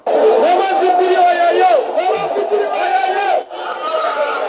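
Crowds of election supporters chant and cheer together in loud, sustained bursts of massed voices, with a brief dip between rounds.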